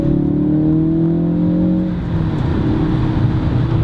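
A Ford Focus RS all-wheel-drive hatchback engine pulls hard under acceleration, a loud steady drone rising in pitch with a gear change midway before building again.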